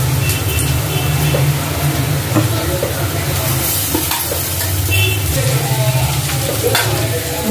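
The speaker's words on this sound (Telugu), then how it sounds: "కాకరకాయలు ఉల్లిపాయల్లో కూడా వేగాలి కదా" Sliced bitter gourd and onions fry in a pan with a steady, loud sizzle and hiss, broken by scraping stirs throughout, with no voices.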